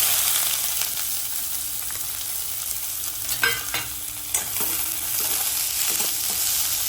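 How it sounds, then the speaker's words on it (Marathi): Finely chopped onion hits hot oil in a kadhai after whole spices have been fried. It gives a steady, close sizzle with occasional stirring scrapes and clinks, and no voices. "आता आपण कढईमध्ये बारीक चिरलेला कांदा टाकू"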